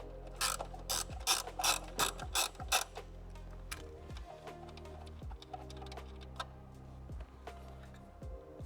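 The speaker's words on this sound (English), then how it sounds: "So you undo this 10mm nut up here with a socket." A socket ratchet undoes a 10mm nut on an R34 GT-R during an engine ECU install: a quick run of clicking pawl strokes followed by slower, steady ratchet clicks up close, with no talking.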